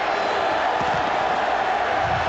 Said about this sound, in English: Crowd really making noise on second and 14.